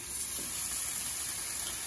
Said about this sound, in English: Hear that sizzling already?